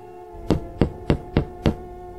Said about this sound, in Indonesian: Ia segera mengetuk pintu.